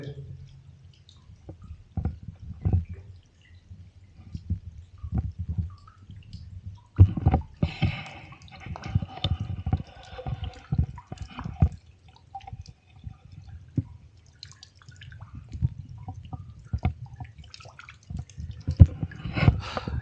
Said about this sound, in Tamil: நமக்கோட கிணத்துலயே வந்து கொஞ்சம் கூடுதலான ஊத்து தண்ணி வருது அப்படின்னா இந்த ஊத்து தான் வர்றது